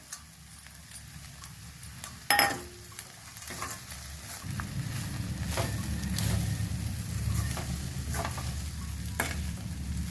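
Fried cashews and peanuts are stirred into gongura rice in a pan, giving a soft continuous sizzle with scraping stirs and a sharp clatter near the start, all close and fairly quiet, with no talking.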